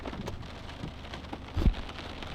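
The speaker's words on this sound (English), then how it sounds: "it's raining pretty bad right now" Heavy rain pours outdoors during a Pennsylvania turkey hunt, a dense steady hiss of drops on surfaces with a low thump or rumble near the end.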